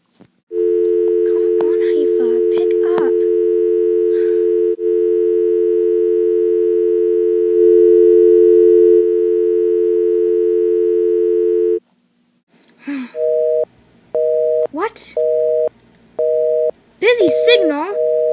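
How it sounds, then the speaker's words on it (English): Phone tones from an attempted FaceTime call in a Littlest Pet Shop episode: a long steady tone runs loud and alone for about twelve seconds, then after a pause comes a rapid run of short regular beeps mixed with brief squeaky sounds. "I am gonna see if I can FaceTime Haifa."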